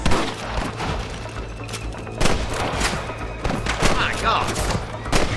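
Gunfire from a Wild West shootout in the video game Red Dead Redemption, with repeated sharp shots and thuds crackling through a busy battle mix, while voices talk over the action.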